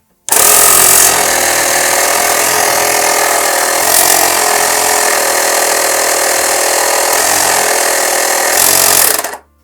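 A loud, steady mechanical buzz of a STHOR 82105 car air compressor running continuously, close up, with a harsh rattling motor drone and no voices.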